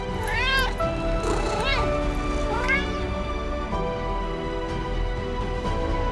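Little kittens meow in a few distinct, rising and falling calls, loud and close, over a steady background hum.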